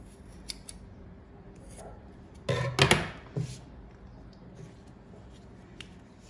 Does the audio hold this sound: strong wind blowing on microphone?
no